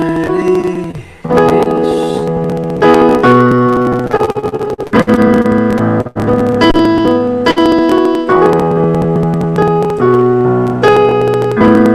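Sustained piano chords and melody accompany a devotional Hare Krishna chant, playing continuously and loudly with rich harmonic tones and brief pauses between phrases.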